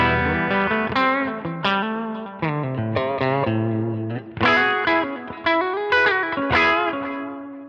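Electric guitar played through a Line 6 Helix LA Studio Comp compressor with gain raised, a run of clear sustained notes and chords with light distortion and some reverb, loud and alone.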